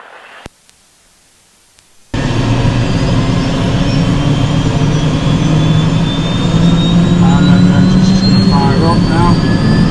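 A helicopter turbine engine starts up: after a quiet moment a loud, steady roaring whine abruptly kicks in and holds, with a high whistling tone and people talking over it.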